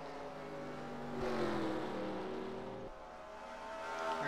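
Race cars in a 1970-era Michigan oval racing video game, a steady, fairly faint engine drone that rises and falls as cars pass, with no voices.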